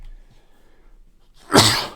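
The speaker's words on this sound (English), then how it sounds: "I gotta sneeze." A single loud sneeze bursts out after a few quiet seconds during a Magic the Gathering Pauper game stream, then trails off.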